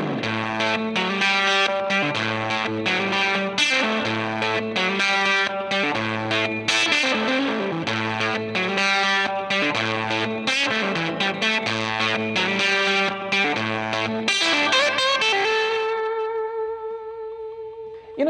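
An electric guitar plays a repeating riff through reverb into a saturating console preamp pedal, thick and distorted with a chorus-like shimmer, then ends on a sustained ringing chord that fades out.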